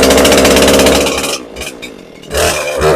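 A Poulan Pro PR5020 chainsaw that bogs down and won't idle runs loud and close, revving hard, dropping briefly toward a rough low idle, then revving back up.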